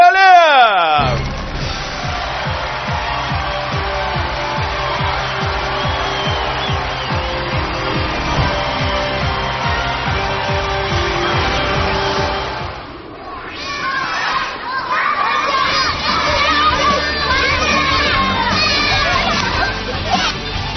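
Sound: TV studio audience applauding and cheering

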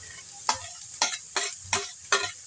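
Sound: stirring dabong with sardines in a frying pan

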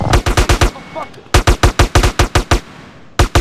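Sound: minigun firing in video game GTA San Andreas

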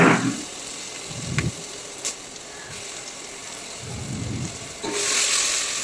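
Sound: ginger garlic paste sizzling as it is fried in oil

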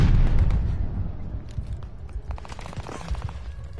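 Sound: stun grenade exploding in the video game Vanguard

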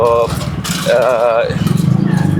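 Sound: modified 100cc classic motorcycle being ridden

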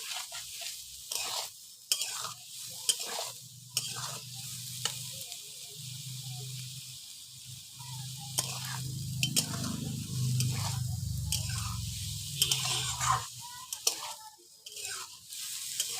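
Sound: frying and stirring soybean chunks with turmeric

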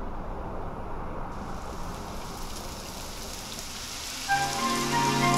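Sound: rain falling, from video game Dragon Quest XI

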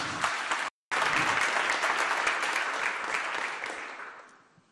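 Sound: applause

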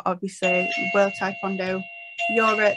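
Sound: doorbell ringing

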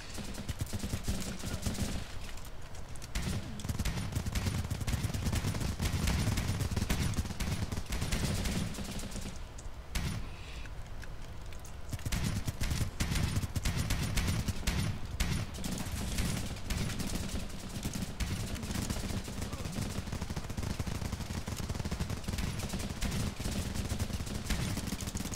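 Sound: FAMAS rifle gunfire in video game Running with Rifles

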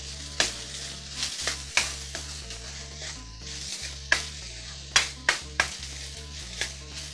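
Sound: garlic cloves sizzling as they fry in a pan

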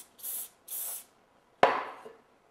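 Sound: spraying glue onto crown molding piece

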